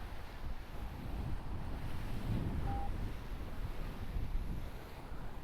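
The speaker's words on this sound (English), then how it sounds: "the wind is clearly coming from the side" Wind gusting across an open hillside at a paraglider launch, a steady broadband rush with low rumbling buffeting on the microphone, continuous and fairly loud throughout.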